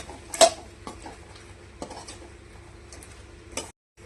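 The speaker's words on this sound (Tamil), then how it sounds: "பொரிச்ச முட்டையை கொட்டி கலரிக்கலாம். நல்லா போட்டு மிக்ஸ் பண்ணிக்கலாம்." Fried eggs are stirred into Manchurian sauce in a pan, with a few distinct clinks and scrapes of a spoon on the metal over a faint sizzle.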